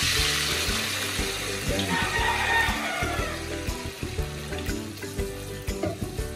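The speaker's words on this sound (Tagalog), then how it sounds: "pag nag-brown na yung ating chicken, ayan, lagyan na natin ng tubig." Water is poured onto browned chicken drumsticks frying in a pan, bursting into a loud hiss and sizzle that settles into sputtering crackles and pops, with no talk.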